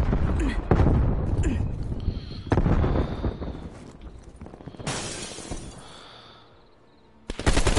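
Frag grenade explosions and gunfire in a video game: several sharp blasts and bursts with noisy decaying tails, loud and close, with a player's voice talking between them.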